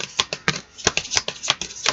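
A brand-new, stiff deck of tarot cards being shuffled close up, loud rapid riffling bursts in a quick irregular rhythm, with no one talking.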